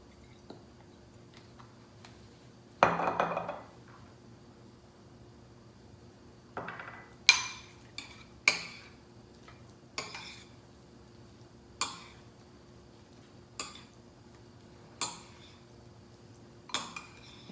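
A utensil folds crab cake mixture of crab meat, breadcrumbs, mayonnaise and Worcestershire sauce in a bowl, giving a louder scrape early on and then a steady series of light clinks against the bowl every second or two, with no talking.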